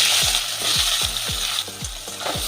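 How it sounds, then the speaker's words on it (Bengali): Small cubes of eggplant frying in hot oil for a Bengali recipe, a steady bright sizzle with a regular rhythm of spatula stirs scraping the pan, close and loud, no voices. "বেগুনটাও আমি ঢাকা দিয়ে ভেজে নেব"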